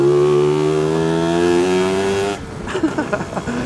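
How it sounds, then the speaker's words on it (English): Lambretta scooter engine held at a high, steady rev with a strong whining tone, then cut back to a rough, uneven idle with sputtering pulses, close and loud. "Just getting the revs up."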